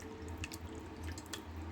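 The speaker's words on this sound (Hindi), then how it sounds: "बिल्कुल ठंडा पानी डाल देते हैं ताकि ये आपस में चिपके ना।" Ice-cold fridge water poured over strained boiled vermicelli sitting in a bowl, giving a faint, steady trickle with small splashy drips throughout.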